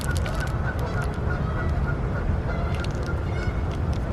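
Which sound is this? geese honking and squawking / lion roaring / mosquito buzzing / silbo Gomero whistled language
geese honking and squawking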